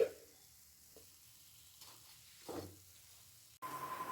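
A besan burfi mixture with sugar is stirred in a pan, giving soft scraping and sizzling strokes at irregular intervals, close and fairly quiet, with a steadier hiss near the end.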